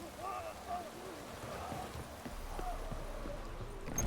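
Faint hoofbeats of a horse in the video game The Witcher 3 clop along at a walking pace amid soft background noise, with a few brief tonal sounds over them.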